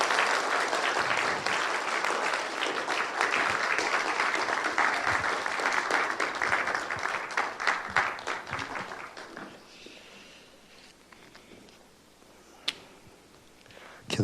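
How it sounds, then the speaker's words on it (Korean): A church congregation applauds warmly as the pastor comes forward, dense steady clapping filling the room before thinning out and fading to near silence with a few scattered claps. "나오실 때 뜨거운 박수로 환영을 좀 부탁드리겠습니다"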